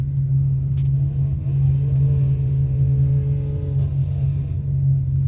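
A car engine at a drag strip rumbles loudly and steadily nearby, a deep idle-like drone with a slight rise in pitch midway, running without any talk.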